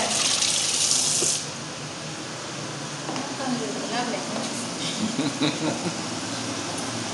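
A kitchen tap runs hard for about a second and a half while hands are washed during a home cooking session of pan-fried tilapia and attiéké, then stops. Quieter room sounds and a voice follow.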